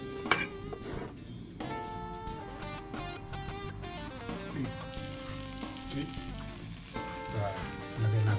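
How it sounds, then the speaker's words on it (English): Salt cod (bacalao) frying in butter in a pan, with a steady close sizzle and crackle running under tonal background music, ending with a louder burst of spattering. "Fry natin itong bacalao."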